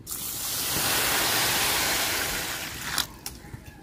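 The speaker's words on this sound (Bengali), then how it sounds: "ডালে এখন জল দিয়া দিব" Water poured into fried moong dal in a pan, a steady rushing hiss for about three seconds that then stops, followed by a few light clinks.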